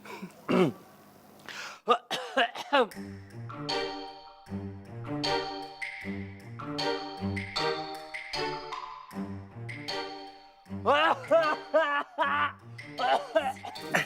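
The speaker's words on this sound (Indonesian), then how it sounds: "Ada yang batuk tuh." A few sharp coughs break out amid a busy background of music and voices, loud and close.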